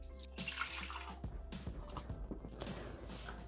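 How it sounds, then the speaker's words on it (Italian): Water pours into a Thermomix bowl while a sea bass is being prepared in the Varoma, a close, splashing stream with gurgling and a few drips, fairly quiet, and no talking. "Mettere l'acqua nel boccale"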